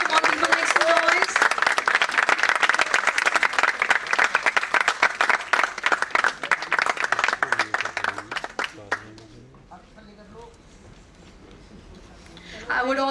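An awards ceremony audience applauds with dense, sustained clapping for several seconds before it fades out, leaving quiet murmurs and a voice near the end.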